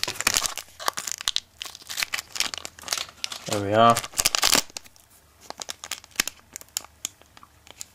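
A Yu-Gi-Oh Order of Chaos Special Edition card pack wrapper is crinkled and torn open by hand, with sharp bursts of foil crackling and ripping, a brief vocal sound in the middle, and someone talking briefly.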